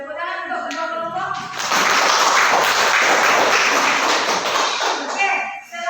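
A classroom of students gives applause for two student groups: several seconds of dense, loud clapping that rises sharply after a teacher's voice and fades as talking returns.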